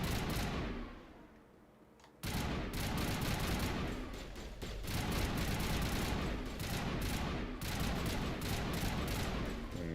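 Dense, rapid gunfire from a Mass Effect Legendary Edition firefight, with continuous bursts and volleys sounding close and loud after a short quieter opening, and little pause between shots.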